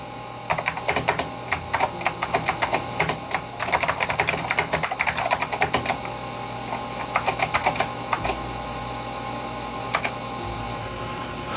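Keys clatter on a Sanyo MBC-16 Plus computer keyboard in uneven bursts of quick, crisp strokes separated by short pauses, loud and close with nothing else heard.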